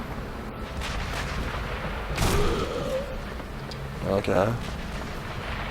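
Gunfire in the video game Sniper Elite V2, a few booming shots over a steady noisy background while someone briefly talks.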